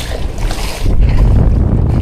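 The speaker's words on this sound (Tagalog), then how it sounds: "Maalon amigo, maalon at saka mahangin." Wind gusting and rough waves slapping a small fishing boat at sea, loud buffeting rumble close to the microphone that grows heavier and more turbulent partway through.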